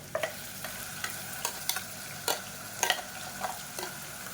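Ground paste is stirred with onions in oil over a medium flame for vegetable rice, making a soft, continuous sizzle with repeated light spatula scrapes and taps close by, and no voices.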